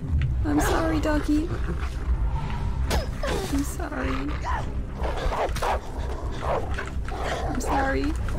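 In the video game Beyond Two Souls, a dog attacks with repeated growls and snarling yelps in short bursts, close and loud over steady game noise, with a player speaking over it.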